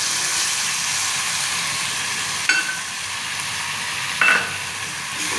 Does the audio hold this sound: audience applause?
no